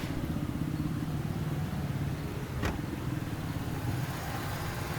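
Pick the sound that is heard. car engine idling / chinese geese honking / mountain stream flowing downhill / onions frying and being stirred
car engine idling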